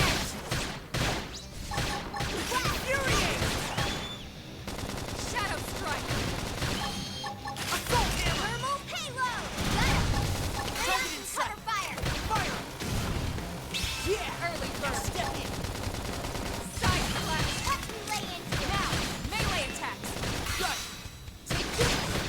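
Rapid gunfire crackles through a battle in Xenoblade Chronicles X: Definitive Edition, with repeated bursts of shots, crashes and thuds mixed over game music and voices for a long, busy stretch.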